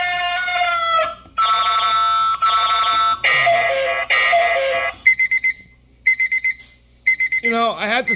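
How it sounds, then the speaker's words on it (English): A loud electronic alarm clock rings in repeated bursts, sustained tones then shorter pulsing beeps, close and piercing with brief gaps between. "this is a very, very loud alarm clock"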